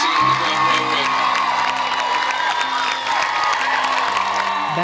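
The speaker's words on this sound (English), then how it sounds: "One more round of applause for Tim Ballard and Operation Underground Railroad." Outdoor crowd at a charity walk against child trafficking cheering, whooping and applauding loudly and continuously, with scattered shouts.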